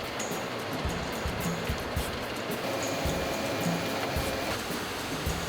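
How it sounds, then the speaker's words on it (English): A mining emerald sorting machine with computerized cameras and air jets runs with a dense, continuous rushing and rattling noise, broken by quick sharp bursts like puffs of air. "This machine is the latest in mining technology, using computerized cameras and jets of air to pick out the emeralds on the fly."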